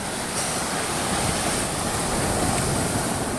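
Strong ocean waves churn in a steady, dense wash of noise, loud and unbroken, with wind mixed into the roar and no talking.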